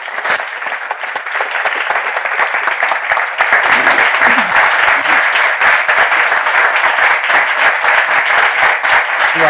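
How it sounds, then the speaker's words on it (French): Studio audience applauding at a French talk show, steady dense clapping that swells and grows louder partway through, continuing without pause to the end. "sous vos applaudissements"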